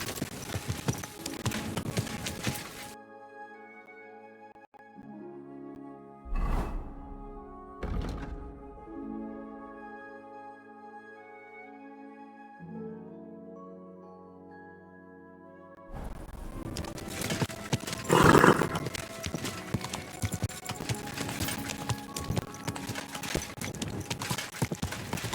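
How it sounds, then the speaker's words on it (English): Horse hooves clip-clop at a walk in Kingdom Come: Deliverance II, a steady rhythm of thuds at moderate distance alongside a sustained musical score, which drops out in the middle before the footfalls grow busier and louder toward the end. "Easy, good horse."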